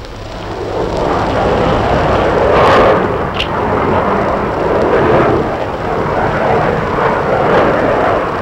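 A Saab Draken jet fighter takes off in 1960 with a loud, broad roar, swelling and holding steady as the engine noise rushes past over several seconds.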